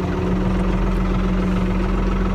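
A farm tractor's diesel engine runs from inside the cab with a loud, steady low rumble and a constant hum, unbroken and close, with no talk.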